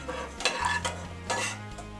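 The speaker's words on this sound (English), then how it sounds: "drop in my chicken and my peppers" Chicken and bell peppers tumble into a hot pan for Tex-Mex pasta, giving a couple of close clattering thumps and a stirring scrape over a steady low hum, with no one speaking.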